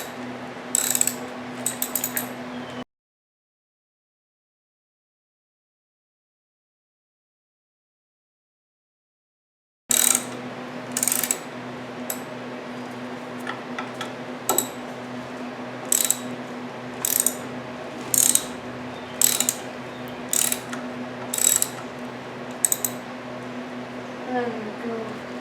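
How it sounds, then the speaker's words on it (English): A ratchet loosens the six clutch cover (pressure plate) bolts on a 1960s vintage VW Buggy, giving bursts of sharp mechanical clicking. The clicking breaks off for a stretch of silence and then resumes, with a low steady hum underneath. "walking around the pressure plate, also known as the clutch cover, loosening the 6 bolts, one step at a time"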